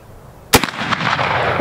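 A single sharp, loud rifle shot from a .50-110 caliber black-powder rifle cracks nearby, followed by a rolling echo and a sustained noisy tail that lingers for about a second.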